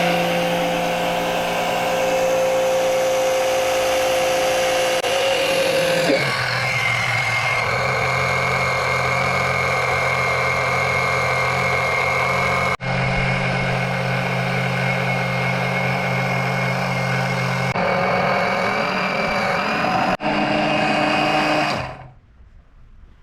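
A 12V 60W oil and fluid extractor pump runs with a steady electric motor drone. Its tone shifts a few times along the way, and it cuts off near the end, leaving silence.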